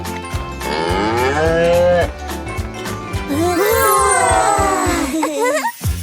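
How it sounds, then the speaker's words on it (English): A cartoon cow gives two long, drawn-out moos over a steady bouncy music beat in a children's farm-animal cartoon, the second moo wavering and ending in short squeaky vocal sounds. "This is a cow. Say hello to the guys."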